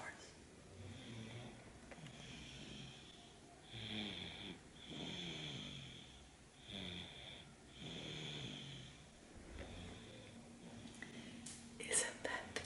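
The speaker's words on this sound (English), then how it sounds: "She snored." Soft, slow snoring from a sleeping toddler girl, rhythmic breaths rising and falling close by, quiet and steady.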